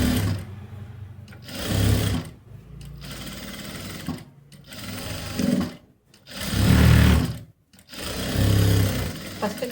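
Domestic sewing machine stitching a blouse, loud close mechanical whirring in several bursts with short pauses between runs, and no voice over it.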